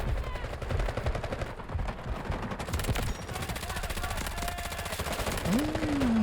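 Gunfire in the video game Delta Force crackles as rapid, loud bursts of rifle and machine-gun shots throughout, layered with battle noise, and a voice briefly speaks over the shooting.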